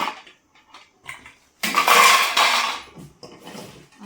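Metal idli steamer plates clank and rattle as they are handled, a few light taps followed by a louder burst of jangling metal, close and without talk.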